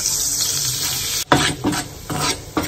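Flour being stirred into melted butter in a pan, a steady close sizzle broken by a few scraping stirs of the spoon, with no voices.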